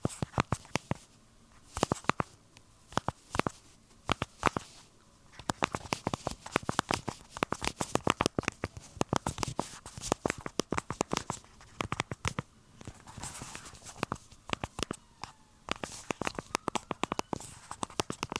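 Rapid, irregular clicking of a Dumber Mini minimalist phone's keyboard buttons pressed up close, coming in dense bursts with short pauses and no speech.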